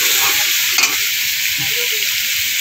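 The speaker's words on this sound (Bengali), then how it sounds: "ভালো করে আলুটাকে ভেজে নিচ্ছি মশলার সাথে" Potatoes frying with spices in hot oil give a loud, dense, unbroken sizzle close up, with a few faint scraping touches of a spatula.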